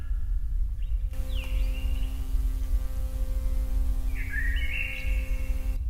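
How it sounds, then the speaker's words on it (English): Nature sounds in a recording: a few brief bird chirps and a warbling call rise over steady electrical hum and low background noise. "Oh, it's just nature sounds."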